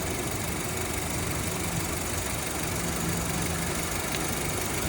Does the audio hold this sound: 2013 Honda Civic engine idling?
yes